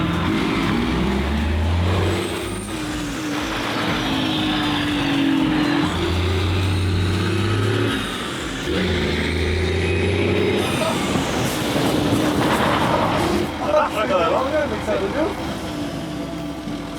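Citroën HY van driven hard in fifth gear, a loud continuous engine drone with gear changes and rushing wind noise, while French voices talk over it throughout.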